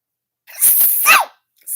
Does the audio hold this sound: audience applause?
no